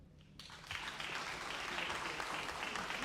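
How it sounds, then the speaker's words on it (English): An audience at a Pacific health research symposium breaks into applause that swells after a brief pause into a dense, steady wash of many hands clapping at middle distance. "another round of applause and congratulations to Dr. Liamanea, Dr. Roene Ngāsiu."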